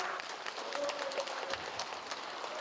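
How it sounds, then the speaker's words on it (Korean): An audience at a Korean public hearing on a power transmission line project claps steadily, a fairly quiet, continuous patter of many hands filling the hall. "감사의 박수 한번 보내주시기 바랍니다"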